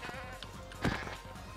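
A goat in modded hardcore Minecraft 1.19 gives a single short, wavering bleat, close and fairly loud against a low game background.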